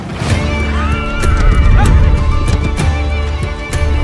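A horse whinnies loudly and close by in a dramatic medieval scene. Several shrill, wavering neighs sound over faint hoof clatter and rustling.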